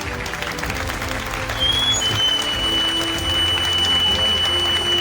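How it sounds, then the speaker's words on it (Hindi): An audience claps steadily through a Republic Day celebration at a housing society, continuous dense applause at moderate level, swelling slightly midway, with no speech over it. "इसका जवाब दें फिर एक बार तालियां"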